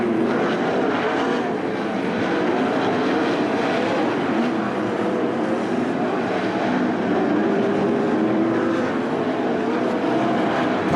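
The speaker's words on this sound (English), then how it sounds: "Cars racing on that bottom groove at 3 wide right in front of your leader with 4 laps remaining." 410 sprint cars race at Attica Raceway Park, a loud, continuous engine roar from a pack running three wide on the bottom groove, steady and dense throughout.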